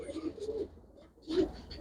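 Pigeons at a bird market give two short soft coos, low and close, separated by a brief quiet gap, with faint background murmur.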